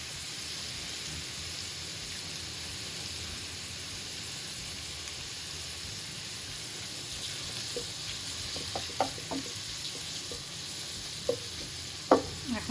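Tomato with ground turmeric, coriander and cumin sautéing in a pan, a steady soft sizzle throughout with a few faint spoon scrapes and clicks toward the end, no voices.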